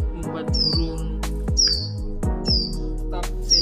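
Baby hill prinia chicks being hand-fed give three thin, high chirps at a steady, evenly spaced rhythm. They sound close and clear over a low, steady background hum.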